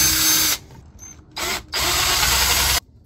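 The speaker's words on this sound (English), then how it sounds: "I'm going to start that with a small drill bit and work up to a larger drill bit to get that hole going" Small drill bit boring a hole through the plastic housing of a percussion massage gun; loud bursts of whirring drilling, stopping and restarting several times in quick succession, close up.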